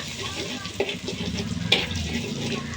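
Garlic drops into hot oil in a pan and fries with a steady, close sizzle and crackle, a few sharp pops standing out, while a voice speaks over it.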